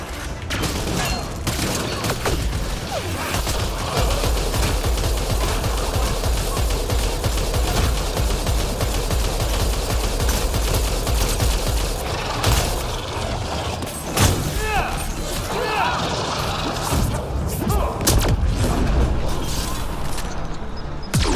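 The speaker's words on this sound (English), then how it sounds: "back to our assault rifle of Ket manufacture" Kett-made assault rifle firing in Mass Effect Andromeda, long rapid bursts of energetic automatic fire with mechanical clatter, loud and sustained, interspersed with short gaps and occasional speech underneath.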